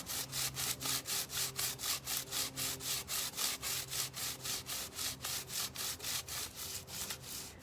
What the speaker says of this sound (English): We are sanding the table.